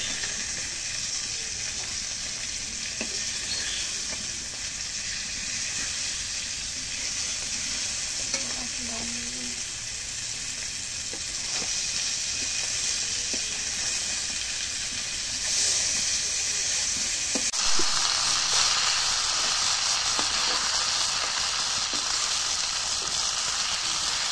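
Silver carp pieces frying in a pan give a steady, close sizzle with a constant hissing wash, occasional stirring scrapes, and a brief louder surge near the end as the fish is turned.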